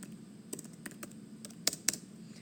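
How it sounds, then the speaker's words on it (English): Quiet, close-up typing on a computer keyboard, a loose stream of light key clicks with a couple of sharper taps near the end and no talk. "I'm just typing."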